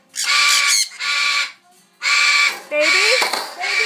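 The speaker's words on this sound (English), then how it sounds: "And then we have a ringneck." Loud, harsh squawking calls from a ringneck parakeet indoors in a home bird room, four raucous bursts separated by short pauses, close to the listener.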